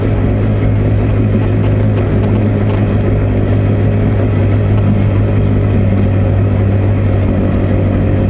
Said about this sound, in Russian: У ребят обяжка, мотор Suzuki 30.